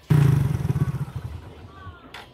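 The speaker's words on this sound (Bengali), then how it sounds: "এবার দেখো না, বাইক স্টার্ট নিতে টাইম লাগবে।" A motorcycle engine on a cold winter morning catches with a sudden loud burst, then its pulsing putter fades and slows over two seconds, followed by a brief click.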